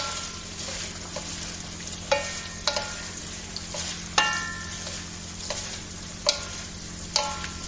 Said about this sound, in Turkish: Biraz da soğan ve biberiyle kavrulsun.